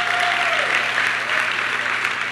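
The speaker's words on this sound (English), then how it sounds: "give her a round of applause anyway" Crowd clapping for Councilmember Priscilla Tyson at the 2015 Columbus Martin Luther King Jr. Celebration, a dense, sustained burst of applause filling the room, fairly loud and unbroken for about two seconds.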